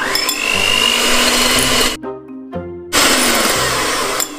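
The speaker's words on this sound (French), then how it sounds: "Du coup là je veux monter les blancs en neige" An electric mixer whips egg whites into stiff peaks in a home kitchen. Its motor whine is loud, close and steady, breaking off briefly midway before running on again.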